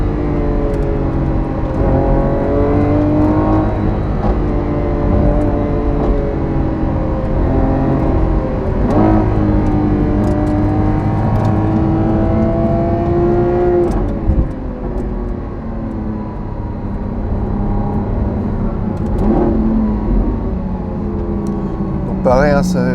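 A Lamborghini Aventador SVJ's engine revs repeatedly, rising and falling in loud, close pulls of a high-pitched whine with a growl underneath, and someone talks over it throughout.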